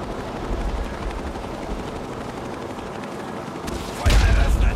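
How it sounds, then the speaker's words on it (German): Gunfire during a helicopter attack in the Fallout 3 video game: a dense rattling barrage over a rumbling background that builds to a heavy, loud burst near the end, with no talking. "Feuer eröffnet!"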